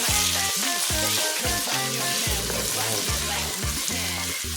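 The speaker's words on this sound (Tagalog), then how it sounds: "Sangkotsahin po natin maigi yung ating pork." Pork pieces sauté in a hot pan with a loud, continuous sizzle and frying crackle. Occasional scraping from stirring sounds over it, close by and with no voices.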